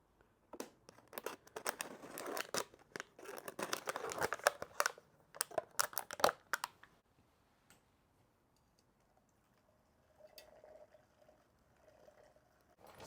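Zip ties being ratcheted tight on a Harley Sportster during a motorcycle build: dense bursts of quick plastic clicking for several seconds, then near silence with a faint hum. No one speaks.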